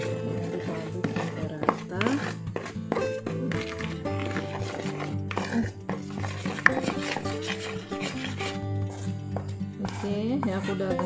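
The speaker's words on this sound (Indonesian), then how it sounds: "dicampur dengan coklat bubuknya ya. Oke, diaduk-aduk sampai rata." Boba dough of tapioca mixed with chocolate powder is stirred in a bowl, a run of soft scraping and knocking strokes, close and moderate in level, under someone talking throughout.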